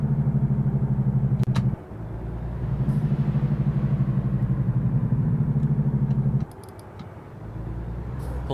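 A semi truck's diesel engine in American Truck Simulator drones at a steady low pitch, drops away briefly around 1.7 and 6.4 seconds as gears shift, then climbs again, with faint clicks over the rumble.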